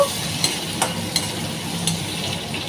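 Cashews, yardlong beans and carrots fry in a pan, giving a steady soft sizzle with a few sharp clicks of stirring spaced through the short stretch, no voices.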